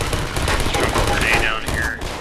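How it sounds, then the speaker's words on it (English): Automated turrets firing in Half-Life 2, a dense continuous rattle of rapid gunfire filling the whole stretch, loud and close, with a voice talking over it. "Got turrets going on down here."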